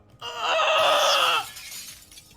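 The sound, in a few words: glass shattering sound effect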